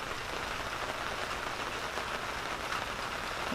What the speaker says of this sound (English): let's listen to the rain